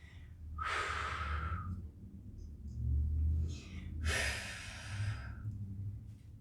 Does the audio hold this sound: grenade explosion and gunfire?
no